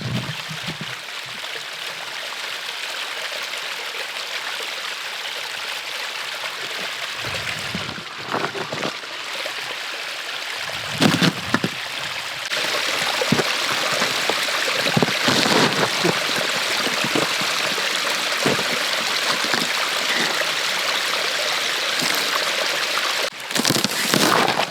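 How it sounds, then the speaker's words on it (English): Water trickles and splashes from a small frozen waterfall in the snowy Scottish Highlands, a steady hissing rush close by with a few brief knocks and rustles. "Little frozen waterfall."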